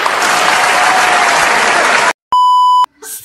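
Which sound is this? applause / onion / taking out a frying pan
applause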